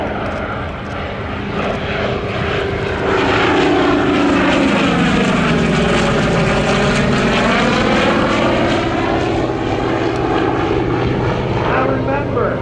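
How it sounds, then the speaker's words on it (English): A Corsair, a carrier-based propeller warplane, passes by at an air show while inbound in landing configuration, its engine drone swelling loud and sweeping in pitch as it flies overhead, then fading slightly. "look to show left, and you'll see the Corsair inbound in landing configuration"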